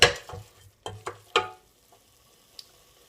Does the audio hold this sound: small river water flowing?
no